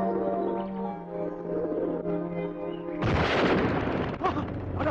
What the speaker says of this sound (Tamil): அட பாவி, கேமராக்குள்ள துப்பாக்கியா? அநியாயமா ஒரு புறாவை சுட்டு பிடியடா.